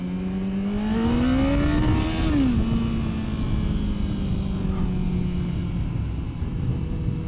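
A ZX14R or Yamaha MT-10 sport motorcycle accelerates hard, its engine note rising steeply, then dropping at a gear change and settling into a loud, sustained drone close by, no speech.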